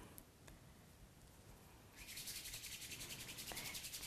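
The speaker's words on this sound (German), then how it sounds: "Sie reiben die Handflächen aneinander" Palms of the hands rub together steadily during a relaxation exercise, a soft close-up brushing that turns into a faster rhythmic swishing halfway through, quiet and alone.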